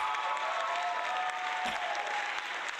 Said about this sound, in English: I'm hitting the applause